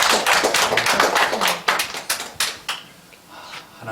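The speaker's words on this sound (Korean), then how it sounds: "모든 영광 하나님께 박수로 올려드리겠습니다." A church congregation claps together at a Sunday worship service, dense overlapping hand claps building for a few seconds and then thinning out to scattered claps before fading.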